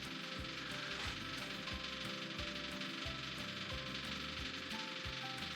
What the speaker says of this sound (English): Excuse the noise of the fuel pump,